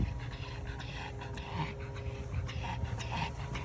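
A tired hunting dog pants hard and fast in short, rhythmic breaths close by. It sounds exhausted and overheated, with faint outdoor background and no speech.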